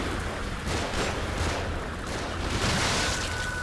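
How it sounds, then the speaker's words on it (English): Explosions in the video game The Evil Within form a continuous, loud, rumbling barrage with dense crackling bursts that never let up. "if I just stay out of the way of those explosions, I'll be okay."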